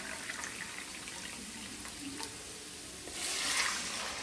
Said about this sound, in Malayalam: ആദ്യം 1 കപ്പ് വെള്ളം ഒഴിക്കുക.